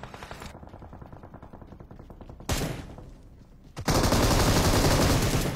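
Gunfire in the video game PUBG: a rapid run of automatic shots rattles along steadily, then a sharp louder blast follows, and a heavy sustained burst of fire closes the stretch.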